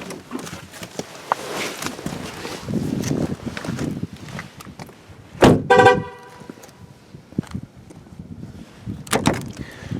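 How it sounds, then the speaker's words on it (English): A 2018 Buick Regal Sportback Preferred gives a quick double horn chirp as a key-fob-left-in-car warning, loud and close. Softer footsteps and door handling come before and after it. "That chiming of the horn is just to let us know that the key fob was left in the car."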